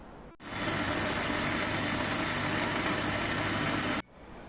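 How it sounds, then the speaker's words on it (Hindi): A mixer grinder whirs loudly and steadily for several seconds grinding a peach drink, starting abruptly and cutting off just as suddenly. "पानी डालने के बाद अब हम इसे ग्राइंड करते हैं।"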